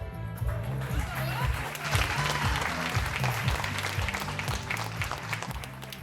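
Audience applause at a fashion show runway, a dense steady clatter of many hands that runs throughout over a thumping, rhythmic music track.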